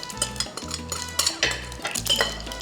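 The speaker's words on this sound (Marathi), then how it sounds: "इकडे माझं तेल सणसणीत तापलंय तर मी फोडणीत घालतीये" Mustard seeds go into very hot oil for tempering in a pan, giving a busy crackle and sizzle broken by a few stirring scrapes and clinks of a utensil on the pan.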